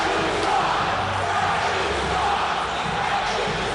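Hockey arena crowd at the 2015 Calder Cup Final between Manchester and Utica murmuring and jeering the officials, a steady, distant mass of voices with occasional louder shouts.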